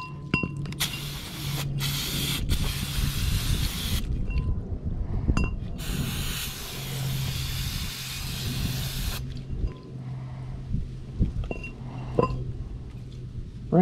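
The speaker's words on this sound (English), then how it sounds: "I sprayed the drum with some brake cleaner." Brake cleaner sprayed onto a Honda Civic brake drum in several loud hissing bursts separated by short pauses, with faint clicks and handling noises between them.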